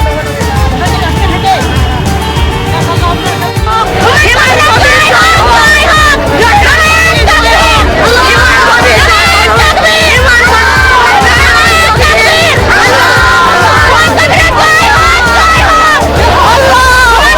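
A large crowd at a Babri Masjid gathering cheers and chants slogans together, a loud continuous roar of massed voices with rhythmic shouted calls rising after a quieter opening.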